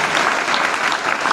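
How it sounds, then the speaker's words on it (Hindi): Audience at a Hindi kavi sammelan poetry event breaks into dense, steady applause, many hands clapping continuously and loudly throughout, with no break. "एक बार थोड़ी तालियां बजा दो।"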